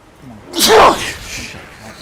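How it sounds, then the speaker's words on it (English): One close sneeze erupts after a short inhale, a sharp burst that trails off into breathy quiet. "Gotta sneeze."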